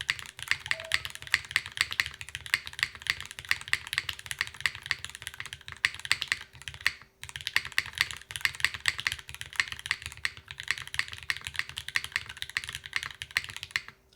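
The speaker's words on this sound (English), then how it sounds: "that is an extremely clean sounding spacebar" Rapid typing on a Pangea Mini mechanical keyboard, close and crisp, with steady key clacks and deeper spacebar thocks in an even rhythm, pausing briefly midway, no talking.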